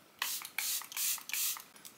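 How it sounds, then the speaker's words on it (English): Charlotte Tilbury Airbrush Flawless Setting Spray mists out in several quick, close hissing bursts, with a few short puffs followed by longer sprays and no talking. "I'm gonna just set it quickly with the Airbrush Flawless Setting Spray from Charlotte Tilbury."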